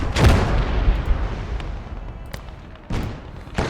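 Booming artillery fire in a World War II–style strategy battle game with a T-34 tank, a heavy blast opening into a long rolling rumble, then more distant thuds and cracks, loud and with no talk.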